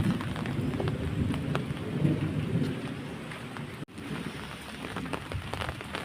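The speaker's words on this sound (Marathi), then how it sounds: "पाऊस चालतोय कोकणात" Heavy monsoon rain pours steadily over the Konkan countryside, a dense unbroken hiss with a deep rumble of thunder beneath it and one sharp break partway through.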